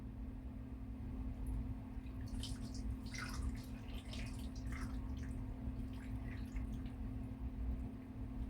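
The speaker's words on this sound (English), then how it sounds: "let's pour buttermilk in here" Buttermilk poured into a container of chicken pieces being prepared for the air fryer, a soft wet trickling and dripping over a steady low hum, fairly faint and continuous.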